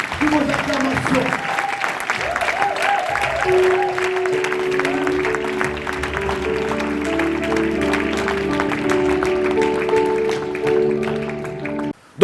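An audience applauds to welcome the worship group, with continuous clapping running beneath sustained music or voices that swell and fade.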